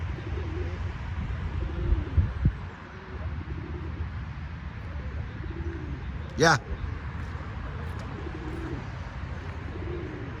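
Pet pigeons in a keeper's loft coo in soft, repeated low rolls over steady background noise, with a brief sharp call partway through while someone talks nearby.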